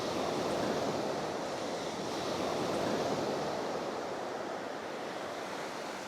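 Surf rolling and breaking on Foxton Beach in Northumberland, a loud, continuous wash of waves with a steady roar and some wind buffeting the microphone, no voices.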